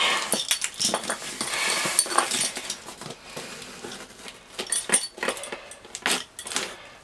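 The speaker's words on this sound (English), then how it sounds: "I'm using keys, so I can't hurt myself." Metal keys jangle and scrape in quick, uneven bursts while they are used to tear open a package of bargain books, with soft rustling between the louder clicks.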